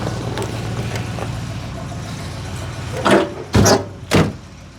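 A 1968 Cadillac hearse door, stiff from long storage, being worked from inside. Three loud mechanical clunks and thuds come in quick succession near the end, after a steady low hum of background noise.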